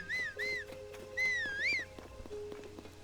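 A person whistles for a horse in Zelda: Tears of the Kingdom, several rising and falling whistled notes in quick succession over soft game ambience.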